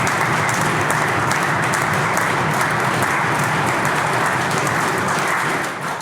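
Sustained applause from a crowd in a legislative chamber, dense, steady clapping throughout that fades slightly at the very end, with no talk over it.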